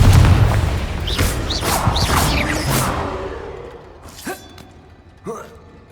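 Confringo blasting spell from Hogwarts Legacy going off as a loud low boom with a crackling burst and whooshing debris, fading over a few seconds, followed by two faint sharp clicks near the end.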